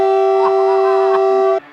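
A whistle is blown again to gather people before a Winton petrol engine is started, giving one loud, steady tone that stops abruptly after about a second and a half.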